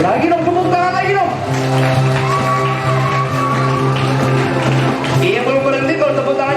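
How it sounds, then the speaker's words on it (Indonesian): Wedding guests at a reception in Bahu clapping again, a sustained patter of applause under music while a voice talks over a loudspeaker. "Lagi dong, tepuk tangan lagi dong."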